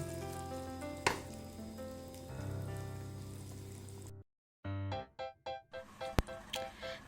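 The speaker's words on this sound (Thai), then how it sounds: "เราจะต้อง คั่วไปเรื่อยๆนะคะ โดยใช้ไฟระดับกลางจนกว่า กะทิของเราจะแตกมันนะคะ" Red curry paste stir-frying in coconut milk for Thai beef red curry: a soft sizzle under a quiet music bed, then a series of short bursts of frying and stirring.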